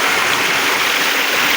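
A flowing stream current rushes in a steady, loud, unbroken wash of water that fills the whole short moment.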